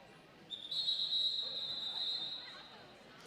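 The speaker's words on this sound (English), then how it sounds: "And that whistle means it's time to get back to the action." A referee's whistle sounds at a roller derby bout, one long, steady, piercing blast lasting about two seconds, clear and loud over a faint arena murmur.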